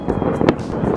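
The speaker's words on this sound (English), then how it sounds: "Oh my god, fireworks everywhere!" New Year's Eve fireworks go off outside with a dense crackling rumble and one sharper nearby bang standing out midway, loud and continuous.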